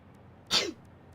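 A single short sneeze, fairly close and clear, breaking an otherwise quiet room with no talk over it.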